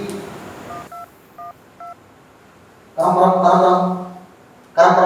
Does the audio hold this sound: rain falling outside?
no